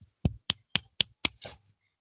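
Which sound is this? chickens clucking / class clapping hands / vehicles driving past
class clapping hands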